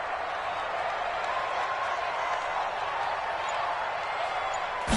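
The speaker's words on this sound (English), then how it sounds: "the crowd getting into it as we come up on a big 3rd down" Steady roar of a stadium crowd cheering ahead of a big third down in a PS4 football video game, a continuous broad wash of noise at even loudness with no talk.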